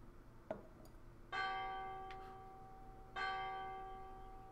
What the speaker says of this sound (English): Oh, it's a church bell.